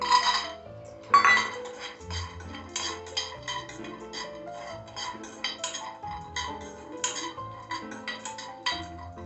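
Cashews and pistachios rattle and tick against a pan as they roast, a steady scatter of light clinks and scraping stirs, fairly close, with no voices.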